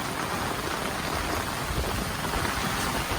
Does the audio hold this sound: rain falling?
yes